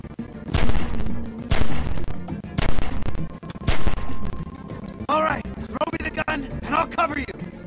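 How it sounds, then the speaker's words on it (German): Gunfire in The Walking Dead: 400 Days video game, several loud sharp shots spaced roughly a second apart, followed by clattering in-game sounds, with someone talking over it. "Das waren 3 Schüsse."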